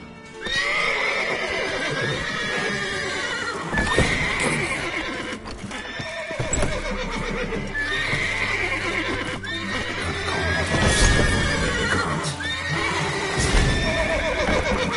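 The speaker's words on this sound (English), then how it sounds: "Calm the horses." Horses in The Witcher 3 whinny and neigh repeatedly over steady clip-clopping hooves, loud and close, with layered game ambience throughout and no talk.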